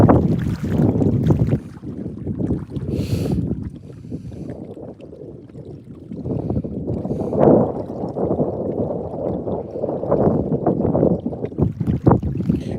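Gusty winter wind buffeting a microphone beside Ochoco Reservoir while trout fishing: heavy low rumbling blasts that surge and ease, with brief lulls between loud gusts.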